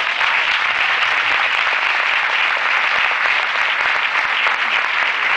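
Audience at a book fair event in Buenos Aires bursts into sustained applause, a dense, loud wash of many hands clapping that holds steady throughout without talk.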